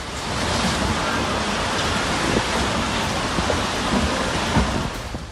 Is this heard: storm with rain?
yes